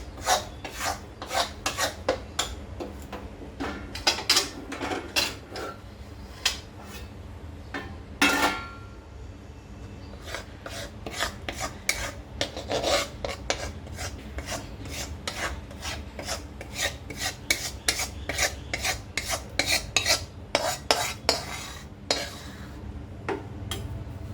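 Roasted gram flour is scraped from a hot pan onto a plate with a metal spoon, making a long run of quick, harsh rasping strokes that are close and loud, with brief pauses between bursts.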